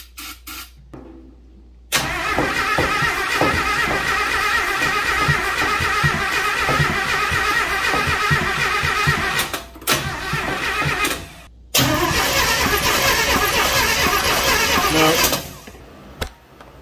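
An old Jeep engine, unstarted for 30 years and primed with brake cleaner, cranks and catches after a couple of seconds, running loud and rough at close range, cutting out twice briefly before restarting, then dying near the end.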